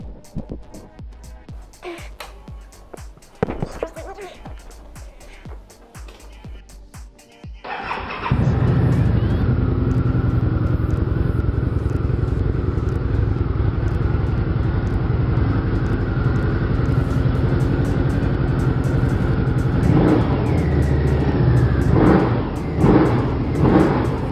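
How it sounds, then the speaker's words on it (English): A 2006 Harley-Davidson V-Rod Street Rod motorcycle with stock exhaust pipes starts after some handling noises, then idles with a loud, steady rumble that rises in a few revs near the end. "2006 street rod, stock pipes"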